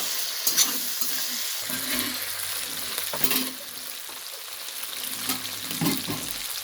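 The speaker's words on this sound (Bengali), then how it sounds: "খুব ভালো লাগে আমার গরমের সময় নিম পাতা এই যে ভাজা।" Neem leaves fry in a pan in a Bengali home kitchen, giving a steady soft sizzle with a few clattering stirs, close and fairly quiet, with no talking.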